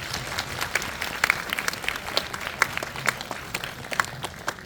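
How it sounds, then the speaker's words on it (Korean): Warm applause from a cinema audience welcoming the director and cast of the film 301 Motel Murder Case after a screening. Steady moderate clapping runs throughout with scattered sharper claps and no talk. "저희 따뜻한 박수로 한번 환영해 볼게요."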